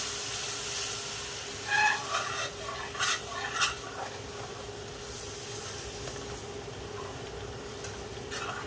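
Base gravy for a British Indian restaurant-style chicken tikka masala sizzling in a hot pan, with a steady frying hiss and a few sharp scraping stirs near the start.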